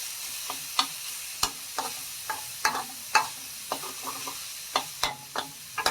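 Pork stir-frying in a pan over medium-low heat, a steady soft sizzle broken by sharp clinks of a spatula against the pan at irregular intervals, close and clear with no voices.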